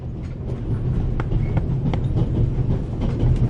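A moving train carriage in the game The Raven gives off a continuous low rumble and rattle, with light clicks and knocks scattered through, heard from inside, steady and near, without speech.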